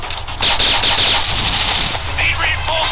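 Rapid automatic gunfire from a first-person shooter video game, dense bursts of loud shots running continuously with brief sharper cracks layered in.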